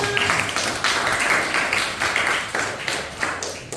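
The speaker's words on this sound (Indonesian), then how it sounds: "Tepuk tangan untuk Ibnu." Students in a classroom give a classmate a short round of applause, a dense patter of close hand claps that rises and falls in a few uneven waves.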